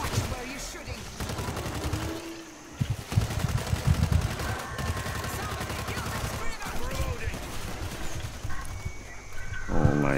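Gunfire in the zombie shooter World War Z rattles steadily through a dense, busy mix of game noise, with voices mixed in.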